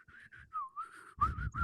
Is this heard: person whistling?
yes